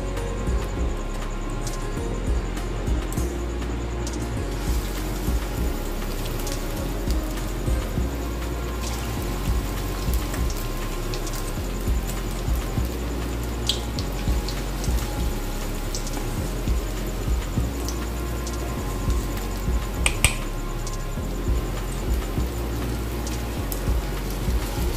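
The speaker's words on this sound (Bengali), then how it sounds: "এবার আমি এক এক করে মাছের ডিমের বড়াটা ছেড়ে দিচ্ছি" Rohu fish roe fritters drop one by one into hot oil and fry steadily, a dense, rain-like crackle and sizzle with scattered sharper pops and no voices.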